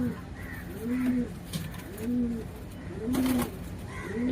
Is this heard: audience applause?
no